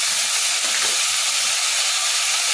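Drumstick flowers fry in a hot pan with new potatoes, giving a steady, loud, even sizzle and hiss that carries on unbroken throughout.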